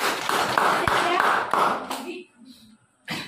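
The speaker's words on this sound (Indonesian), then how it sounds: "Tepuk tangan untuk pertanyaan." Students in a classroom lesson clap together in a quick burst with a voice mixed in, then a pause before a short final clap.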